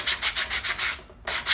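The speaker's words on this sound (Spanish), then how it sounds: "estoy usando una lija del 220 porque ya me faltaba muy poquito para llegar al corte" Hand sanding a small piece of wood with 220-grit sandpaper: rhythmic back-and-forth rasping strokes, close and clear, about eight passes with a brief pause before resuming, no talk.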